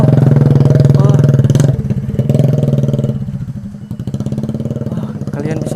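A motorcycle on a slick village road revs and putters up close, the engine note rising and dipping as it works through the mud, with a voice talking over it partway through.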